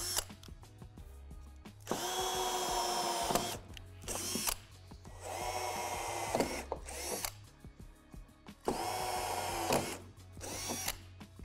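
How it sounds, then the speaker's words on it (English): A cordless drill set to high torque bores through the metal pole of a Lifetime 8' x 7.5' outdoor shed door, in three long, loud, close whining bursts separated by brief pauses. "drill out the two holes at the bottom and top of the door"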